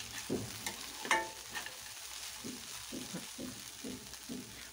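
Kande pohe with potatoes and peas is stirred in a pan, giving soft rhythmic scraping strokes over a low sizzle, with one sharper clink of the spoon against the pan partway through; no voices.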